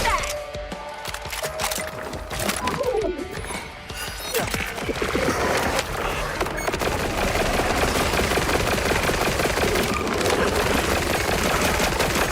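Rapid video game gunfire from an aging gun fills the scene with loud, continuous bursts of automatic shots and sharp cracks, dense and unbroken throughout.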